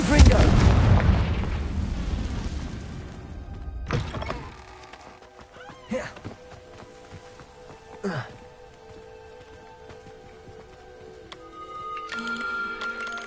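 Confringo blasting spell explosions in the video game Hogwarts Legacy: a heavy, loud blast opens, then three sharper, shorter bursts sound at intervals over a quiet, humming background.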